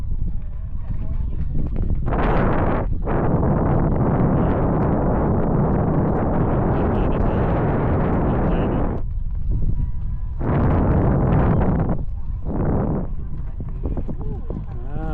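Strong wind blowing by the Mekong riverside at night, loud blustery rumbling gusts buffeting the microphone in long surges with brief lulls between.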